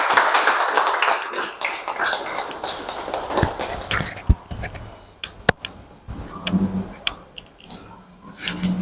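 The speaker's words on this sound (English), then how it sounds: "Another round of applause as he comes" An audience applauds a speaker at a leadership talk event. The clapping is dense and loud at first, then thins to scattered individual claps and taps.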